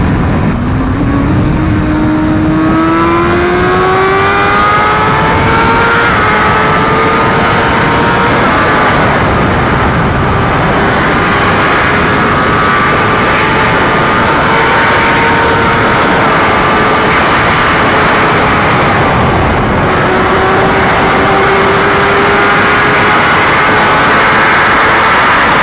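A BMW HP4 motorcycle fitted with an SC Project exhaust runs at top speed, its loud engine note climbing steadily through the gears amid constant rushing wind noise, with no talking.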